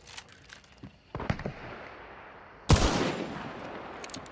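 Gunfire in the Hunt: Showdown game, with a few faint distant cracks early, then a sharp, loud close shot that rings and echoes into a fading tail, no talking over it.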